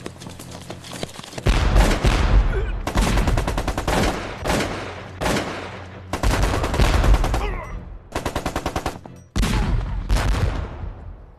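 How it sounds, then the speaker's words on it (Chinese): Battle scene in a film about the Japanese army: loud, rapid bursts of gunfire and booming artillery come in repeated volleys, each burst separated by brief gaps. "这是皇军的炮声。"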